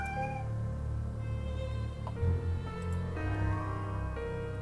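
Cat meowing in the video game Dark Tales: The Black Cat, several drawn-out meows over a steady game backdrop, close and fairly clear, with no talking.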